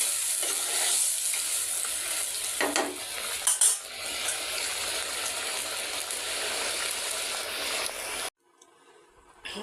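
Fish bhuna frying and being stirred in a pan, a steady close sizzle with scraping and clinks of a utensil against metal, cutting off abruptly to near-silence near the end.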